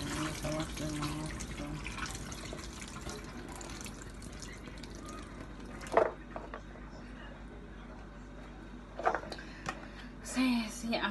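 Carrots and potatoes are rinsed under a running kitchen tap for a Jamaican ital soup. Water splashes steadily into the sink, with occasional louder gushes and a voice nearby.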